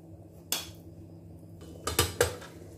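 A cooking pot set down and handled on a stovetop in a quiet kitchen: one sharp metallic clank, then a quick pair of clattering knocks a moment later, close and distinct.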